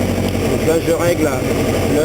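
A Suzuki GSX 1400 motorcycle idles close by with a steady, slightly uneven burble that holds for a couple of seconds.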